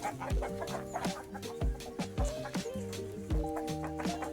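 Hens cluck steadily in a busy, overlapping chorus on a farm as they are let outside to peck, with a few louder squawks and soft thuds nearby.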